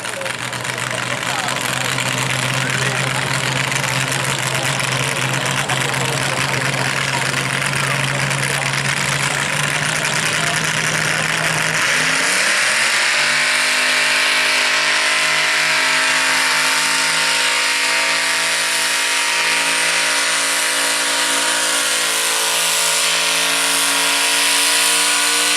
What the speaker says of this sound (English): When motor revs real loud, tires quit turning, sometimes transmission troubles